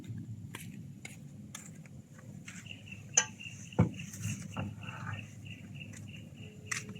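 Stainless steel pot lids handled among scrap at a dumpster, faint scattered metallic clinks and clanks, a few sharper knocks standing out over quiet background hiss.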